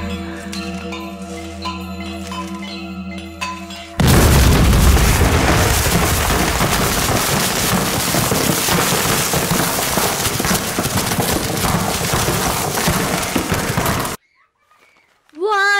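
In a Tamil feature film, explosives planted and set off by remote go up in a sudden, massive blast after quieter music. A roaring, crackling rumble follows for about ten seconds before it cuts off abruptly.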